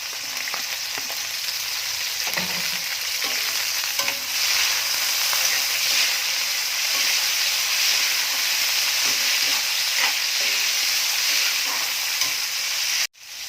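Vegetable ingredients fry in a hot pan while being stirred, a loud, close, continuous sizzle with occasional scraping of the utensil, ending in a sudden clunk and cutoff.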